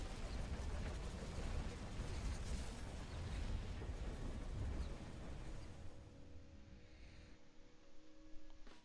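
A continuous, roaring explosion rumbles on in Resident Evil 6, dense and loud with deep low-end for several seconds before thinning out toward the end.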